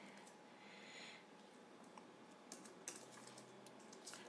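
Quiet typing on a computer keyboard while writing a VBA macro in Excel, with scattered soft key clicks and a few sharper taps over a faint steady hiss.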